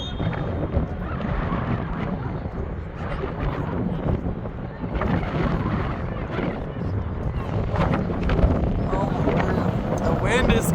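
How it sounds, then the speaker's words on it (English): Strong gusts buffet the microphone at an outdoor youth soccer match, a dense, steady rumbling roar with surging swells that persists throughout the clip, while voices talk over it. "Wind is getting so strong."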